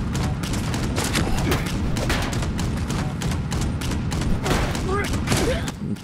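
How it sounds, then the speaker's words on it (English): A Gatling gun in Fallout 76 fires a long, rapid, continuous stream of heavy shots at close range, loud and steady from start to finish, with game impacts and booms mixed in. "actually find this Gatling gun is pretty good"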